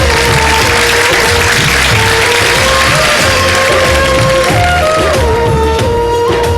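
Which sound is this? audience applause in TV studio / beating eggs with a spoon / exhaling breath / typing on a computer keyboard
audience applause in TV studio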